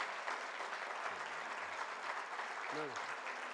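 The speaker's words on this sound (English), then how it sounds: "We need a higher decibel in clapping." Sustained applause from a big audience at an awards ceremony greeting Kapil Dev, a thick continuous clatter of hands, with a voice briefly speaking over it near the start and again toward the end.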